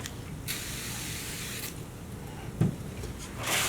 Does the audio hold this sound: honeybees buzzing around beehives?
no